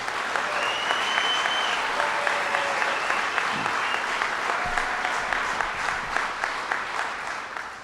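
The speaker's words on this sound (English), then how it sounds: "Let's give them a round of applause." An audience at a minimum wage announcement breaks into sustained applause, dense clapping that holds steady and then tapers off toward the end.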